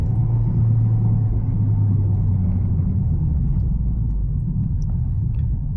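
A Nissan GT-R engine rumbles steadily while being driven on the road in Japan, a loud, continuous low drone with road noise and no talk.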